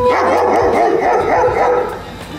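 A dog barks and whimpers in short yelping bursts, close by and loud, with a voice murmuring underneath.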